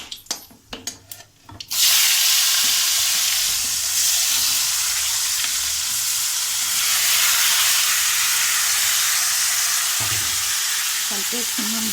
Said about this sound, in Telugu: టమాటోస్ అన్నీ కట్ చేసి వేసేసాను కదండి, ఒకసారి కలిపేసుకుందాము